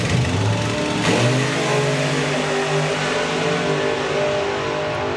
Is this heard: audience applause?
no